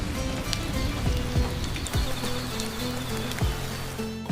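Steady rain falling in cloudy weather, a dense continuous patter of drops with a few louder splashes scattered through it, close and even in level with no voices.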